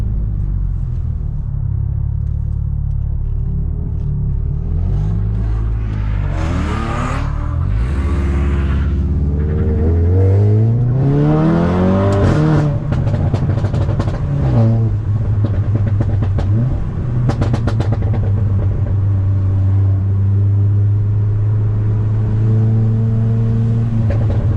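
A car engine, from a Golf R, BMW E36 or M140i, revs hard and whines through rising and falling pitches as the vehicle drifts around a bend, loud and close, with tyre skid noise.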